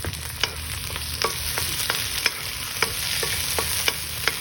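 Tomatoes and spring onions sauté in a pan with a steady oily sizzle, while a utensil scrapes and taps against the pan at regular intervals.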